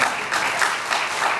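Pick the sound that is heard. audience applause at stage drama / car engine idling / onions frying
audience applause at stage drama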